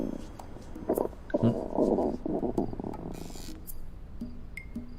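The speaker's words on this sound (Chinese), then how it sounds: "是我肚子叫。" A person's empty stomach growls from hunger in a quiet palace-drama scene, a low gurgling rumble lasting a couple of seconds, close and fairly soft, with faint background rustle and no speech over it.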